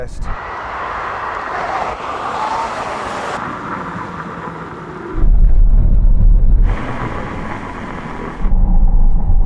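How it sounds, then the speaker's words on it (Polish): Tesla cars, including a heavy Cyberbeast, brake hard from 160 km/h on a test track, heard as a loud roaring rush of wind and tire noise that swells and cuts back in two heavy rumbling bursts. "będziemy mieli test hamowania od 160 km na godzinę"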